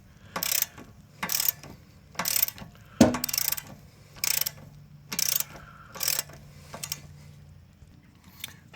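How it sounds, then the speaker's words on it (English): A ratchet wrench removes a nut on a 2013 Hyundai Sonata 2.4L during engine and transmission work, giving about seven short bursts of rapid ratcheting clicks with pauses between, close and clear, plus one sharp knock, with no talk. "We're just going to remove the nut side first."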